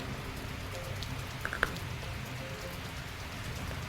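Afternoon rain falling around Ramban district in Jammu and Kashmir, a steady even patter with a few sharper drops striking a surface close by, heard on its own without any talking.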